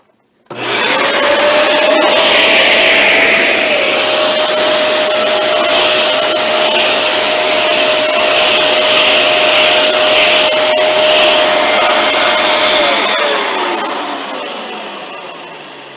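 Dyson Ball Animal 2 vacuum cleaner running with its tool attached: a loud, steady motor roar with a constant whine that holds for about thirteen seconds, then winds down as the motor shuts off.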